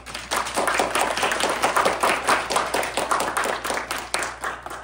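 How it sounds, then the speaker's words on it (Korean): At a university mock cabinet meeting performance, an audience claps warmly in brisk, rhythmic applause, with distinct hand claps audible close by throughout. "다양한 의견을 제시해주신 우리 장관님들께 큰 박수 부탁드립니다"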